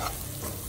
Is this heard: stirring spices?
yes